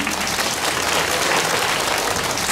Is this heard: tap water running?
no